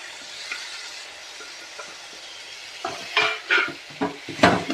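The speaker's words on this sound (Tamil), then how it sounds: "இந்த வெங்காயத்தோடு நல்லா பெரட்டி விட்டுருவோம்" Stirring tomato, onion, cooked carrot and beans together in a pan, heard as soft intermittent scrapes and clinks of a utensil against the pan over a faint sizzle, growing louder toward the end.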